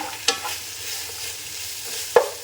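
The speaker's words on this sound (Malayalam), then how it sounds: "നന്നായിട്ട് മിക്സ് ചെയ്യണം എല്ലാത്തിലും ഒന്ന് പിടിക്കണത്" Fried chicken being stirred and mixed in a hot pan with a spicy-sweet coating, two sharp scraping clinks standing out over a faint steady sizzle, with no voices.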